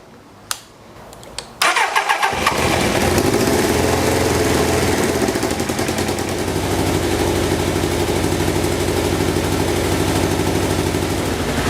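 Carbureted motorcycle engine with the choke on, fed from a Motion Pro auxiliary gas tank, cranks with a few sharp clicks, catches and settles into a loud, steady, slightly uneven idle close by.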